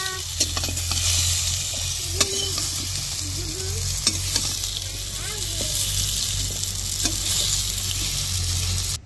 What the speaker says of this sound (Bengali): আলু আমি হালকা লাল লাল করে ভেজে নিছি,